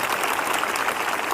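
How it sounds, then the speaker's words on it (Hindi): Loud, dense applause from a church congregation at a Christian prayer service, a steady wash of clapping filling the whole short moment with no pauses. "एक जोरदार ताली बजाएं।"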